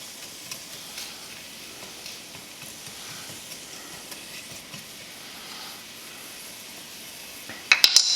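Onions seasoned with salt sauté quietly in a pan, a faint, even hiss running steadily before a few sharp clatters of a utensil near the end.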